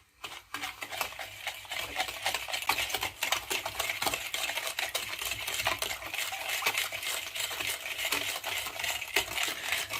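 Semolina roasting in a pan for helva, stirred with a utensil that scrapes and taps rapidly and steadily against the metal under a soft hiss, close and moderately loud, no speech.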